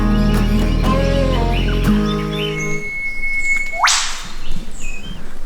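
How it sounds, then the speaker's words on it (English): Catbird calling in Queensland's Scenic Rim rainforest, a rising wailing cry like a crying baby or screaming cat that swells loud near the end, following a stretch of droning tones and other bird sounds. "that's the catbird."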